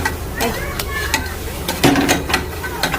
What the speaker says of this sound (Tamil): இப்போ நல்லா ஃப்ரை ஆகும்